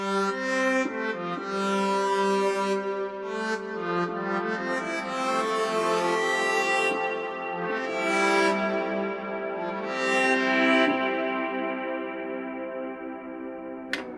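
A bright, sustained Novation Peak synthesizer chord with rich harmonics and a short, tight reverb tail at its shortest reverb setting, playing steadily throughout with shifting notes.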